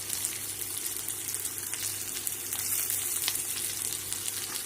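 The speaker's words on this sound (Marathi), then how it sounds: "2 मिनटं कांदा चांगला भाजते" Onion sputtering in hot oil with mustard seeds, cumin and curry leaves, a steady close crackling sizzle with bright popping, running continuously without talk.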